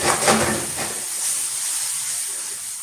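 Squid cooks in a pan, giving a hissing sizzle that starts loud with crackling bursts, then settles into a softer, steady hiss.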